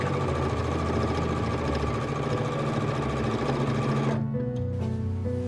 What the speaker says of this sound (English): hem the bottom of my sleeves with this sewing foot that rolls my fabric as I'm stitching